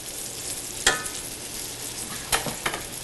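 Tomatoes frying in a pan for a twist on a BLT, a steady close sizzle with a few sharp clicks and scrapes standing out, and no one talking.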